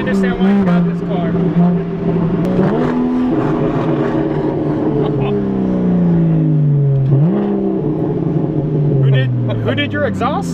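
Lexus LC 500 fitted with an aftermarket exhaust, its engine note climbing and winding up in pitch through several rising sweeps, loud and continuous under people talking.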